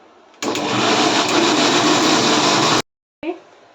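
Mixer grinder whirring loudly as it grinds soaked urad dal with curd, a steady continuous motor roar lasting a couple of seconds before cutting off abruptly, followed by a brief clatter.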